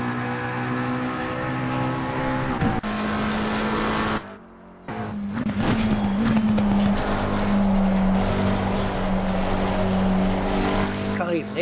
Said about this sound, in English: The engine just dies and then comes back again.